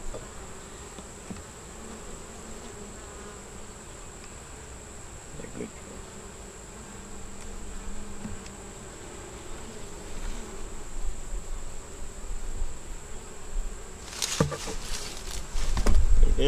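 Honey bees buzz around hive frames near the beekeeper, a continuous insect drone that thickens toward the end, with a few brief handling clatters and knocks near the close.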